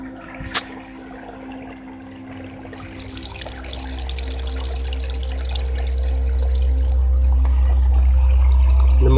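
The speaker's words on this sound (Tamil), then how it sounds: "மோட்டர் ஆன் பண்ணியாச்சு, தண்ணி போயிட்டுருக்கு." Irrigation water rushes from a pipe while a pump motor runs on a farm plot, a low motor drone swelling and holding steady under the continuous flow after a single sharp click near the start.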